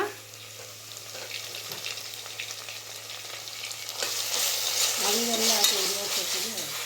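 Onions frying with ginger-garlic paste for mushroom biryani, stirred in the pot: a sizzle that swells louder partway through, with scraping stirs and a brief faint voice.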